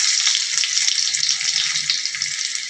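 Garlic crackles and sizzles steadily in hot oil for curd kadhi, a close, bright, continuous frying hiss with small popping bursts and no talking.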